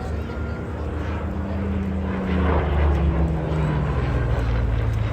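Propeller aircraft performing aerobatics at the Folkestone Air Display 2022, a steady droning engine growl swelling louder midway as it passes, heard from the ground amid outdoor ambience.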